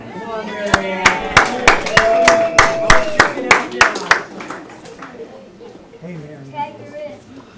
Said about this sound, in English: Please join me in welcoming Marianne.